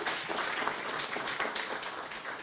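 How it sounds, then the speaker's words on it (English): Soft, steady audience applause from a crowd at a student hackathon award ceremony, a brief even wash of clapping heard at a distance with no talking. "Applause."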